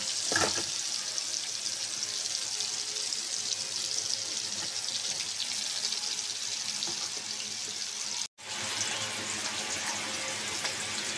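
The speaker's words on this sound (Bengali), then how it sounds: "এখন মাছগুলি ভেজে নেবো।" Oil sizzles and crackles steadily as koi fish (climbing perch) fry in a pan, a constant hissing texture with a brief break partway through.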